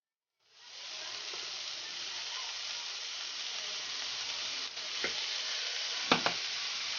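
Chopped onion and bell pepper hit a hot pan and erupt into a loud, steady sizzle that holds throughout, with a few brief utensil knocks near the end.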